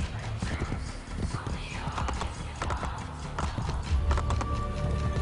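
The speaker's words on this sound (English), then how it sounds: "This horse is totally slow." Rapid hoofbeats of a horse in the video game Assassin's Creed: Brotherhood clatter in a steady galloping rhythm alongside snorts and a whinny, with a person talking over the hooves.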